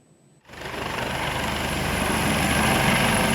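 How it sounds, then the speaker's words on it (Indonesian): A Basarnas search-and-rescue helicopter sets down after evacuating residents in isolated Palembayan, Agam, West Sumatra; after a quiet half second its rotor and turbine roar starts abruptly and stays loud, steady and close to the end. "Beginilah detik-detik helikopter Basarnas mendarat usai mengevakuasi warga di Kecamatan Palembayan"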